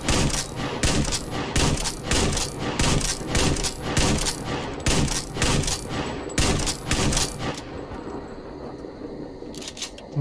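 Gunfire in the video game Metro Exodus during a fight with a bear: rapid, loud, evenly spaced shots in quick bursts, ending in metallic clicks as the gun jams.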